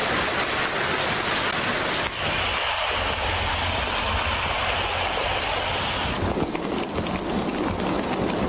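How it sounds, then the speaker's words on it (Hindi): Light winter rain drizzles steadily over streets in Karachi, a continuous broadband hiss of drops mixed with passing traffic and engine rumble, loud and even throughout with no talk. "कराची के मुख्तलिफ इलाकों में मौसम सरमा की पहली बारिश।"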